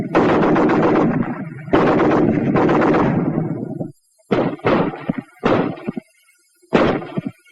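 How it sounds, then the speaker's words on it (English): Browning Automatic Rifle fires several loud, close bursts, each a rapid string of shots, with brief silences between the later short bursts. "The BAR, 80 shots a minute."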